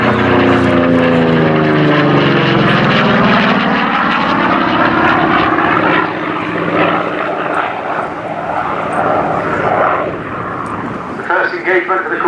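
A Corsair piston-engine propeller fighter flying at the Culdrose Air Day, a loud, close roaring engine drone whose pitch sweeps downward as it passes, with a commentator talking over it.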